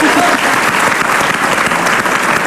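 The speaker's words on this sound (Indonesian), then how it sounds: "Tepuk tangan." Loud, dense applause from a television studio audience on a talk show, a sustained wash of many hands clapping that holds steady throughout.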